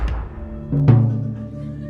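A voice imitates the Netflix opening sound: a short thump followed by a low, swelling sustained tone that holds and fades over about a second, close and alone without other talk.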